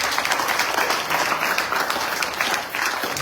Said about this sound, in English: I want to give the Vyaas a nice round of applause